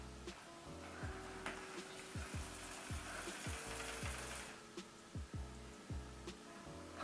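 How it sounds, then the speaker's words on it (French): Washing machine running in a home, a faint steady mechanical whir with a broad hiss and repeated soft clicking and ratcheting noises, heard at low level. "Désolée pour le bruit, la machine à laver est lancée."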